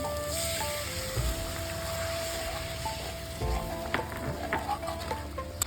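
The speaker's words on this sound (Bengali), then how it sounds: "দেখুন সর্ষেটা হালকা করে ভেজে নিয়েছি।" Mustard paste frying in oil for a Bengali bata fish curry gives a continuous sizzle with occasional stirring clatter toward the end, under faint sustained background tones, and no talking.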